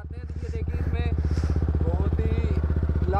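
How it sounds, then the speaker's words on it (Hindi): A Kawasaki ZX-10R sportbike engine idles close by with a steady, fast throbbing pulse, while people talk over it throughout. "आपको ZX 10R दिखाता हूँ।"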